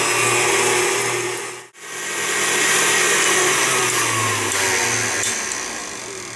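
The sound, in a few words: electric mixer whipping lard at medium speed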